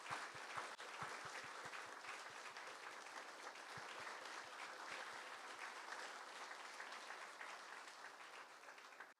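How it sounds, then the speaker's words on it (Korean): A large audience at a university honorary doctorate ceremony gives sustained, dense applause, a continuous wash of many hands with a few sharper claps standing out early on, heard at a distance. "다시 한번 큰 박수 부탁드리겠습니다."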